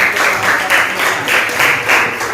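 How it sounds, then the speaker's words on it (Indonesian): Classroom applause, a loud group of students clapping together steadily in a short burst. "Oke, mari kita berikan aplaus."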